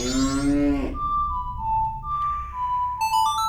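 A cow in Zelda: Majora's Mask gives a single loud drawn-out moo at the start, followed by a sustained in-game ocarina melody.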